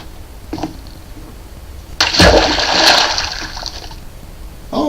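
Water gets placed in the Minecraft SkyFactory 4 world, a loud splashing rush that lasts about two seconds before tapering off, with small game clicks before it and another splash starting at the end.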